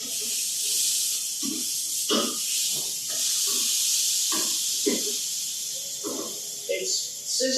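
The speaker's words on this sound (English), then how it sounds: "It's sizzling again," French toast made with an egg alternative sizzles steadily in a hot pan, a continuous bright hiss running throughout while a person talks over it.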